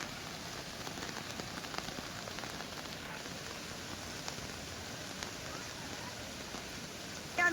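Steady rain pattering on a surface, a dense even hiss of drops that continues without a break, with no voices.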